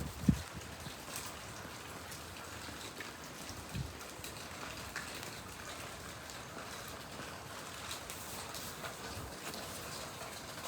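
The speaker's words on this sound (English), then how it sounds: "As you can hear, it is still raining." Steady rain falls outdoors during a windstorm, a dense, even hiss of drops on surfaces lasting throughout, with a brief sharp knock near the start and no voices.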